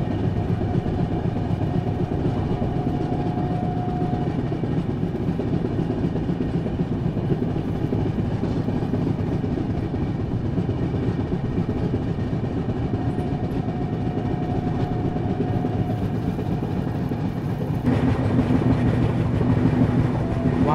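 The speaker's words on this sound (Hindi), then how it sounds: "ट्रेन भी धीरे हुई है अभी, अभी तक तो भाग रही थी।" A Rajdhani express train is heard from inside a 3AC coach, with a steady rumble and rhythmic clatter of wheels on rail throughout and a slight change in tone near the end.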